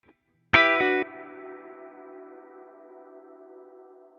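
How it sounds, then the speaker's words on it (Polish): A single drum hit hits hard and cuts off, then a long reverb tail with pre-delay lingers and slowly fades through several seconds of near-silence. "będzie się zapętlać, że będziemy mieli uderzenie i kawałek ciszy i będzie w tej ciszy słychać, jak się pogłos zachowuje"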